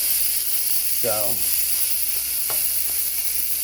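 Chopped ground beef and cheese frying on a hot griddle for chopped cheese sliders, a steady loud sizzle throughout, with a brief spoken word and a couple of light scraping clicks over it.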